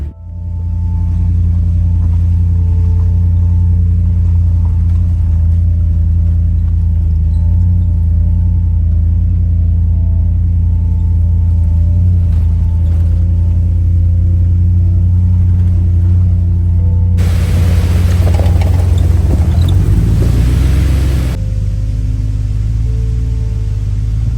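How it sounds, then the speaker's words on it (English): Truck rolling along a forest service road, a loud steady low rumble that continues throughout, with a burst of rougher road noise near the end. "So get back in the truck and keep exploring."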